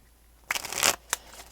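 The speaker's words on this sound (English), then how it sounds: "I hope I shuffle better than I'm speaking right now." Slightly sticky tarot cards in humid weather are riffle-shuffled close by, giving one quick papery flutter followed by a single sharp snap, with no talking.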